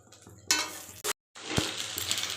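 Chow mein noodles fried in hot oil and stirred in a pan: loud, close sizzling with scraping and clattering strokes, broken by a short silent gap before the frying resumes.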